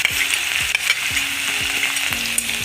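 Crushed garlic frying with mustard seeds and urad dal in hot oil gives a constant close sizzle, broken by repeated quick spoon scrapes against the pan, with no talking.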